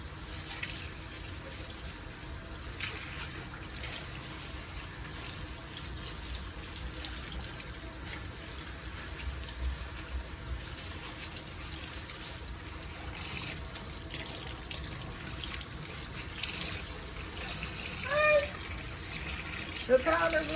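Water runs steadily from a sink tap while a blonde wig dyed with watercolor is rinsed, a continuous close rushing wash with some splashing and a brief voice near the end.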